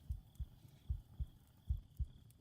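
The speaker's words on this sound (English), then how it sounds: "I can hear your heart pounding." Pounding heartbeat sound effect in a vampire ASMR roleplay, six low, soft thumps spaced evenly over a steady faint hum, with no talking.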